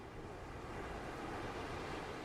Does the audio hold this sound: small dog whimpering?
no